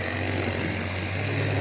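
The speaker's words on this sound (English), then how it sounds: "matey boy trimming the grass." A grass trimmer runs beside a village church in Oxfordshire, making a steady, loud, buzzing engine drone that stays constant and close throughout, with no voices.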